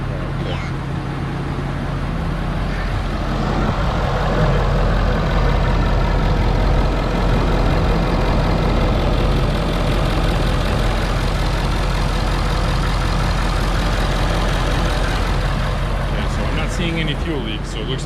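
A 2011 Ford F250 Powerstroke diesel idles close by after a fuel filter change, a loud, steady low rumble throughout with people talking over it.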